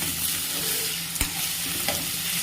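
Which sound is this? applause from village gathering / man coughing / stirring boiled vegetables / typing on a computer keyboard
stirring boiled vegetables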